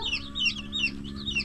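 Chickens and young chicks cluck and peep repeatedly close by in an open farmyard, high chirps rising over a steady background drone with no voices.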